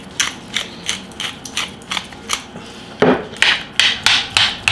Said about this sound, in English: I'm going to put some cracked black pepper in there